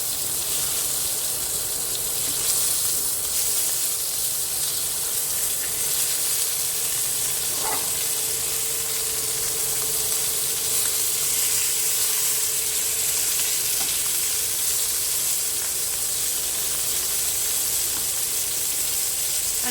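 Fish fillets sizzling and frying in a pan on low gas, a steady close hiss and crackle throughout with no talking.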